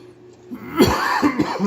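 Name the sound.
cough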